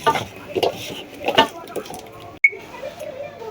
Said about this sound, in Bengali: এই সম্পূর্ণটুক উপাদান দিয়ে বরবটিগুলো মাখিয়ে নিলাম